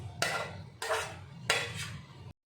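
Vegetables hit a new frying pan in three separate bursts of clattering, hissing noise, each sharp onset fading before the next, then sudden quiet.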